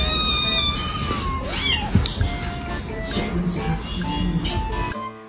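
A cat meows repeatedly in a series of short, varied cries, some rising and drawn out, close and clear, with faint background noise and a brief cut near the end.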